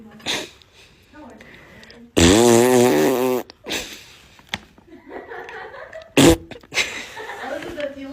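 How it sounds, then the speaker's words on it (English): A loud, drawn-out fart bursts out for about a second, startling a horse, amid surrounding talk and laughter with another short sharp burst later. "Your kid farted and scared your horse."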